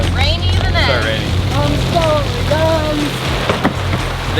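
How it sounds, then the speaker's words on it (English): Tropical rain falls steadily in the Borneo rainforest around a jungle cruise boat. A constant, even hiss fills the whole stretch while voices talk over it. "Start raining."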